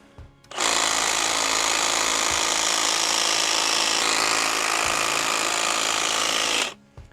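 Milwaukee cordless handheld hedge trimmer with long high-quality blades running steadily at close range, a loud continuous buzzing whir that starts abruptly, holds for about six seconds, then cuts off.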